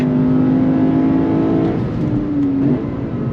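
A 2024 Lexus IS 500 F sedan's engine heard loud and close while driving, a steady rising engine note broken by a quick downshift blip and drop in pitch near the end, with no talk over it.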